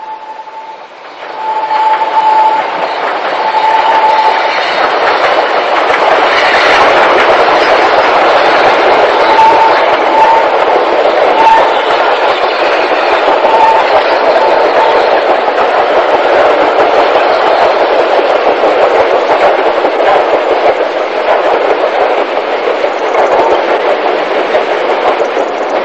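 Narrow gauge steam locomotive number 9 running bunker first out of a steep rock cutting and drifting around reverse curves, a loud continuous rolling rumble with rhythmic rail clatter that builds after a quieter opening and holds steady throughout.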